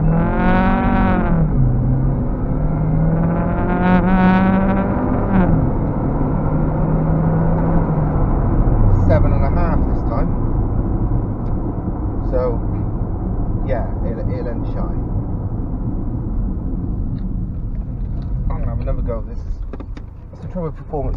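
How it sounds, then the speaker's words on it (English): A Volvo 2.0T car launches hard from a standstill, its engine note climbing steeply through several gear changes, then settling into a loud steady roar of speed and road noise. "0 to 60, foot hard, brake and the accelerator"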